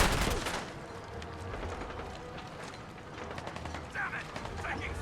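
In a Fallout 4 fight against raiders, rapid gunshots crack in quick clusters among metallic clicks and clattering mechanisms, moderately loud, with faint voices in the background.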